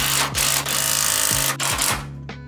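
A power tool tightens caster camber plate bolts on a boosted NewEdge car being readied for drag racing, with loud sustained whirring and several brief pauses between bursts, close up.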